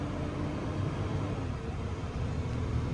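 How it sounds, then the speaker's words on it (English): Steady low rumble of a DT466 diesel engine in a forestry chip truck driving down the road, a continuous even drone heard from inside the cab without talk. "Listen to that beautiful, big DT466 purring"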